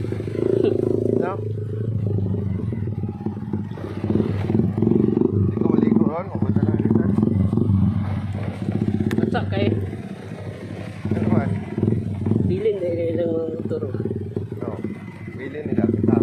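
A motorcycle engine idles and revs with a low, steady drone, close by, while people talk over it.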